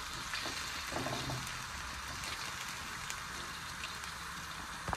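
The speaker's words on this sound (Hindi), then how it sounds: "प्याज को इतना आप भूनिए कि इसका लाइट सा कलर चेंज हो जाए" Chopped onions frying in a pan for a Lahori murgh cholay, a steady close crackling sizzle with fine spattering pops throughout, no talking.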